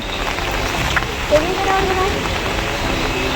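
Steady rain falls in a continuous hiss, a dense wash of drops without pause and fairly loud throughout.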